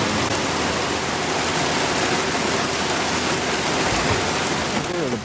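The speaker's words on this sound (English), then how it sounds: "Rain again." Steady rain falling over a home garden, a dense, even hiss of drops on leaves and surfaces, close and continuous for the whole stretch with no talk.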